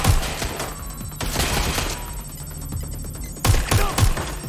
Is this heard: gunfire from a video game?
yes